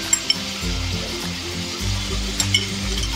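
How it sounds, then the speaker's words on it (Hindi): Chicken sizzles steadily in a karahi with ginger garlic paste, with a few light clinks of a utensil stirring against the pan, close and continuous. "चिकन को थोड़ा सा गोल्डन कलर आने तक फ्राई करेंगे"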